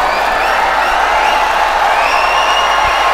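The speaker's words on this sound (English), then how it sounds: "The crowd gives him a rousing ovation." A tennis crowd at the Chennai singles final gives the winner a sustained ovation, with dense loud applause and scattered cheers and whoops that fill the arena without a break.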